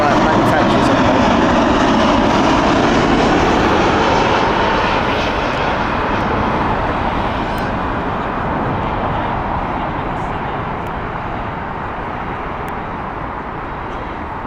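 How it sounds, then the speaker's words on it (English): A British Airways Boeing 787 at Heathrow Airport gives off a loud, steady jet roar that fades slowly as it moves away, with talk faintly audible beneath it. "Another rubber wings of 787, British Airways."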